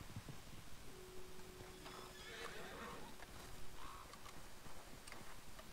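A horse in the Western video game Red Dead Online whinnies once in the middle, with faint hoof clip-clops and quiet game ambience around it.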